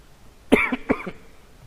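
Two quick, harsh coughs close to the microphone, one right after the other, in an otherwise quiet room.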